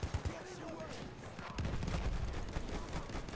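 Battlefield 1 combat gunfire: sharp shots early, then a heavier burst of rifle and machine-gun fire with booming impacts, steady under a voice.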